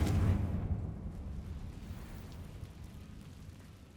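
A Confringo spell explodes in the video game Hogwarts Legacy: a loud, deep boom at the start fades into a long, low rumbling tail over the next few seconds. No one speaks.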